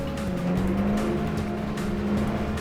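Cars racing in the Cobra 11 Crash Time video game, a steady engine drone with a rising whine, loud and continuous with no talk.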